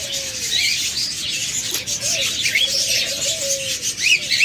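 Pet budgerigars and cockatiels chirping and calling in a cage, a steady mix of high chatter and a few longer whistled calls, close by.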